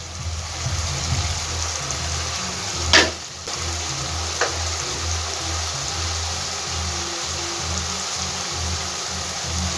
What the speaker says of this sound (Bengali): পেঁয়াজ বাটাটা একটু আমি ভেজে নেবো আগে